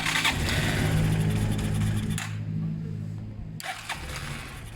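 A Zontes motorcycle engine runs at idle on half choke while still cold, a close, loud, uneven putter that briefly dips and then picks up again, with a voice talking over it.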